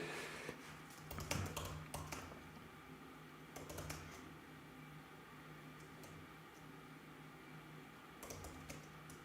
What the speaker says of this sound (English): I know you can't see me typing the lyrics